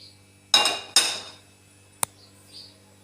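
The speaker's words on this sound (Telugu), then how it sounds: "ఒక గిన్నె పెట్టుకోవాలండి." A metal pot set down on a kitchen stove with two sharp clanks close together, then a single short tap, over a steady low hum.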